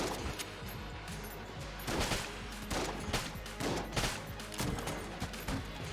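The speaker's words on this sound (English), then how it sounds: "I'm using the shotgun." Shotgun fire in the video game Enter the Gungeon sounds as rapid, repeated blasts and crackling hits over a busy game soundtrack, with dense bursts clustered throughout.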